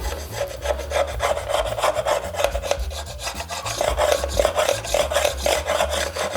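A hand file rasps rhythmically back and forth in quick repeated strokes, cleaning grooves on a castle wall segment model, close and fairly loud, with no talking.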